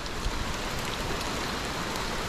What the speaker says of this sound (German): Einfach regnet nonstop.